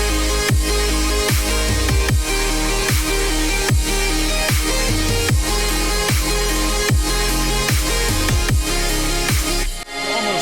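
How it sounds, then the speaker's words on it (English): A dense synth drop hits hard with pounding kick and bass stabs on a steady beat, topped by a distorted, screamy pad built from a stretched vocal sample that gives a noisy, choir-like sheen throughout, loud and without talk. "so that it sounds like this distorted screamy pad."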